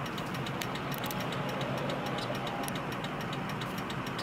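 A Ford F250 with a 6.0 Powerstroke diesel engine running, a dense steady rumble with hiss and rapid ticking, close and constant throughout.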